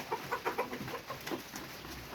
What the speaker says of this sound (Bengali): এই তো আমার 19টা মুরগি।